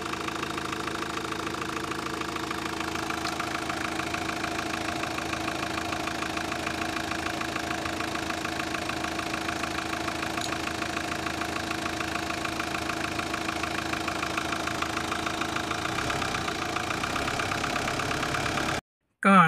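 A 2004 Mitsubishi Strada 2.5 pickup engine idles smoothly and steadily at close range, a continuous mechanical hum that runs unchanged almost to the end.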